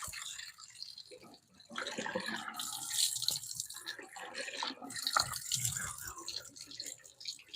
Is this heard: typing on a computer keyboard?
no